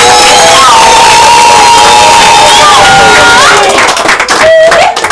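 Guests at a traditional wedding cheer and shout loudly as a crowd, with bright voices and clapping filling the whole stretch before the noise breaks up and thins near the end.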